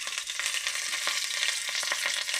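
Mustard seeds and curry leaves fry in hot oil in a frying pan, giving a steady bright sizzle with dense crackling pops throughout, close and fairly loud with no talking.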